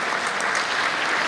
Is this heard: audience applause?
yes